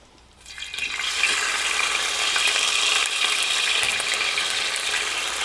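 Ginger and garlic drop into hot coconut oil for a beef fry, and a loud, hissing sizzle bursts up after a brief quiet start and then holds steady.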